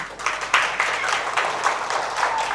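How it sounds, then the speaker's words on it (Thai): Applause for a student council president candidate at a school election, a steady wash of many hands clapping at close range with brief louder bursts, filling the short stretch without any voices. "ขอเสียงปรบมืออีกครั้งค่ะ"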